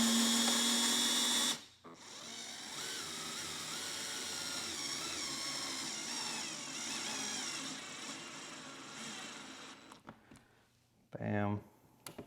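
Cordless drill set to a high torque clutch setting drives screws while a Focal 1000 IWLCR Utopia in-wall speaker is installed, a sustained close whir that ends with a short burst as the screw tightens.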